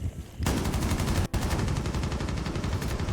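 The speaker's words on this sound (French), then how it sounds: "la Zami qui se prend une grande rafale dans la bouche" Rapid automatic gunfire from a competitive esports video game match crackles in a sustained burst after a quiet start, with one brief gap, loud and dense throughout.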